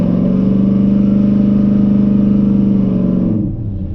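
A Chevrolet S10 truck with a cammed 5.3 V8, a 4L60 transmission and a big-stall converter idles loud and close with a choppy, lumpy pulse. The engine note drops away sharply near the end.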